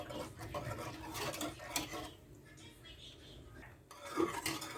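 A spoon scrapes and clinks around a pot of homemade white sauce with cheese, stirred in uneven strokes with soft rubbing and occasional metallic taps, close and moderately quiet.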